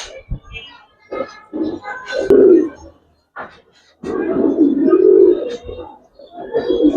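Pigeons coo in low, throaty bursts at close range, repeated in a few phrases with short silences between them, while someone talks over the calls.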